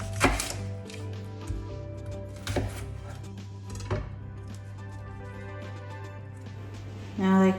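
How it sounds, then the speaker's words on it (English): Knife chopping fresh seasoning of ginger, garlic and onion on a board for Jamaican brown stew chicken, a few separate close cuts spaced seconds apart, with a steady background hum throughout. "cut up the fresh seasoning that will be going on our meat"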